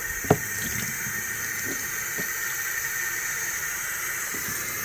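Tap water running into a sink during a Sunday morning cleanup, a steady quiet hiss and trickle with a small clunk near the start and no talking.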